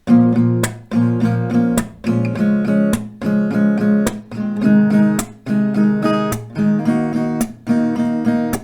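An acoustic guitar strums chords in a steady rhythm, each chord repeated in short bursts of down-and-up strokes, close and clear.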